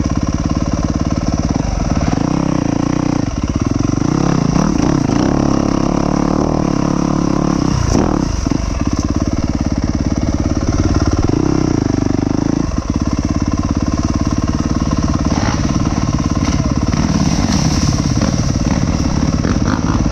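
A 2025 Yamaha YZ250F dirt bike engine runs loud and close throughout, rising and falling as the rider revs and rides, with a constant throaty buzz and brief surges; no talking.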